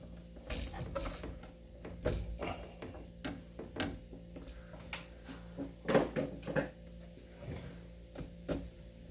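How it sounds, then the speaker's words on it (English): A screwdriver tightens the green ground screw on an electrical outlet, giving a series of irregular close clicks and ratcheting creaks spaced over several seconds against a quiet room hum. "Tighten up the ground screw."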